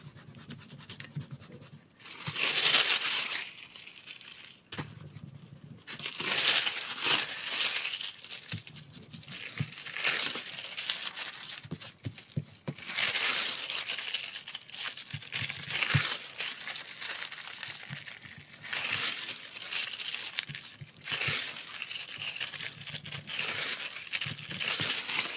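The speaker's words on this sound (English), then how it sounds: "apply the foil on top and rub." Holographic bronze foil being rubbed onto paper over a flower design, a soft steady close scratching and crinkling friction that continues with small pauses, quiet and without voices.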